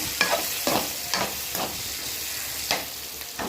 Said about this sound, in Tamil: இப்போ அரிஞ்சு வச்ச கோவக்காயை போட்டு ஒரு வதக்கிறேன்.